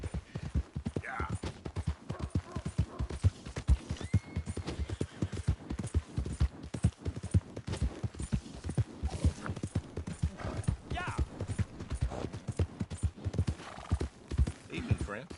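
Horse hooves clip-clop in a steady rapid gallop rhythm in Red Dead Redemption 2, with occasional whinnies and neighs breaking through, close and continuous, while voices talk over parts of the ride.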